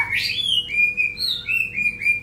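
A white-rumped shama, a murai batu with a black tail, sings close and clear, a string of bright whistled notes and quick rising chirps with short pauses between phrases.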